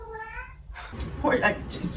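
A house cat meows with clear stacked harmonics at the start, followed by a brief rustle as it gets into things, with a person talking around it indoors.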